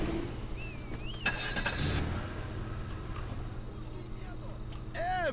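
A car engine in the Teardown video game starts and revs beneath game noise and a voice, with a steady low hum, some clicks and whooshes.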